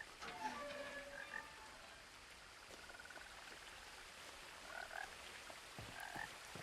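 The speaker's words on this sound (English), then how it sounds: "I hear a froggy." A frog croaks in a quiet outdoor scene of the video game What Remains of Edith Finch, a few soft repeated croaks over a low ambient hiss, faint and somewhat distant.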